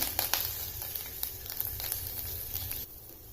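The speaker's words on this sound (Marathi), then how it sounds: "आता मी एक कढई ठेवली यात मी नेहमी मसाला भाजत असते त्या कढईमध्ये आता हे कांदे आपल्याला पुन्हा टाकून द्यायचे आहे" Onions roasting in a little oil in a kadhai, a soft continuous sizzle with faint crackles and scraping, fairly quiet and without talk.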